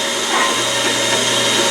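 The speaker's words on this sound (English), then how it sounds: "And just drill slowly, hang on to the vise, and reduce the pressure as you break through." Steady, loud whine of a drill boring through metal held in a vise in a home machine shop, continuous and close with no pauses.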